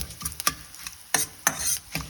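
Bursts of sizzling and crackling as cumin and fenugreek seeds fry in hot oil, coming in short, irregular pulses close by.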